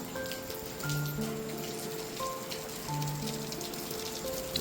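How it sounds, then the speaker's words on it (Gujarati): Rain falls outdoors in the middle of the night, a soft continuous patter under faint sustained tonal hums, fairly quiet and steady with no voices. "હા વરસાદ ચાલુ છે મિત્રો."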